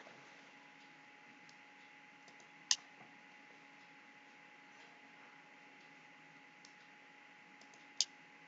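A computer mouse clicks twice, sharply and close, while a pipeline build is launched in Jenkins, with a long quiet stretch of faint steady hum between the clicks.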